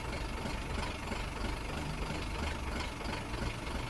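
A Lovol 504 tractor with forced hydraulic hitch idles nearby, a steady low diesel rumble with a faint knocking texture, running alone throughout.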